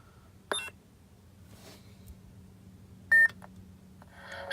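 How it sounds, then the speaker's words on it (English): A Phoenix Props lightsaber hilt changing its sound bank gives two short electronic beeps, clear but quiet over a low background hum, followed by a faint rising tone at the end. "So again, 2 beeps, and then that'll be the next sound bank."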